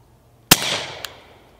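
A single shot from a suppressed Beretta 21A Bobcat .22LR pistol: one sharp, close crack followed by a short hissing decay and a faint second click, in otherwise quiet surroundings.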